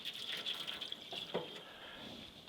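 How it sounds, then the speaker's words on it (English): Noodle cooking water poured from a pot into a ramen bowl with shrimp, a steady close splashing pour with a bright watery hiss running the whole time and a brief louder gush near the middle. "my noodle, I'm gonna pour out some of the water"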